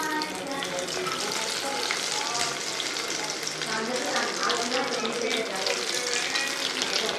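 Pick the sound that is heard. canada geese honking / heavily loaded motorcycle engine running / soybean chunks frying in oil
soybean chunks frying in oil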